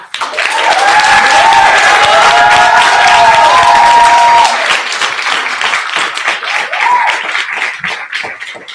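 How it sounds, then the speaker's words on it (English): Loud audience applause for panel speakers at a women's panel event, with enthusiastic clapping and cheering whoops, easing somewhat after four seconds but continuing to the end. "So let's give a round of applause for our beautiful queens."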